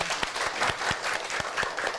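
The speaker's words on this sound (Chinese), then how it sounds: "大家都给予他非常热烈的掌声" Warm, steady applause from a school audience in Laos, dense clapping with a few sharper individual claps standing out, continuous and fairly close.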